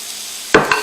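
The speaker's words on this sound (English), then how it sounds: "And now we've got a little bit of a sizzle." Onions land in hot oil in a pan with a sudden loud hiss and sizzle that flares twice in quick succession over a steady background hum, with no talking.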